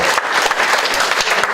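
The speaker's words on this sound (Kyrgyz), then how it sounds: "кол чабуулар болсун туугандар" Audience applause at a Kyrgyz gathering with singing: dense, steady clapping from many hands filling the whole short stretch, loud and close, with no talk over it.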